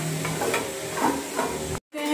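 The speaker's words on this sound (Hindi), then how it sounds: "और अभी हम इसे एक बार जो है वो चला लेते हैं" Parwal and potato sabzi is stirred in a pan with a continuous scraping, sizzling texture, cut off by a brief silence before the frying resumes loudly.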